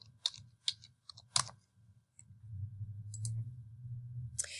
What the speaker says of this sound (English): Type in a topic.